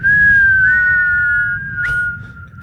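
A person whistles one sustained, clear tone that slides up and back down, loud and close with no talking over it.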